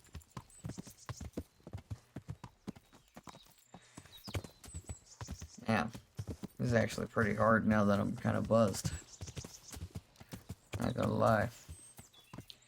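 Horse hooves clip-clop steadily as a rider travels on horseback in Kingdom Come, a close rhythmic clatter running throughout while someone talks over it in bursts.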